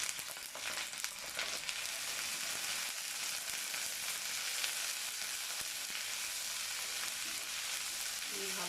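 Onions with ginger paste sauté in a pan for a potol dolma recipe, a soft continuous sizzle with faint stirring scrapes, fairly quiet and without talk.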